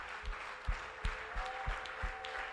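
A church congregation claps along in rhythmic unison, steady beats about every third of a second over a sustained hum and room murmur, moderately loud.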